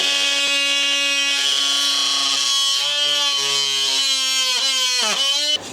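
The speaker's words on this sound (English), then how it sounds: "I'm just going to have to switch over to the multi-tool" An oscillating multi-tool cuts through a wooden fence rail with a loud, close, high buzzing whine that holds steady, then wavers and dips in pitch as it bites before stopping abruptly.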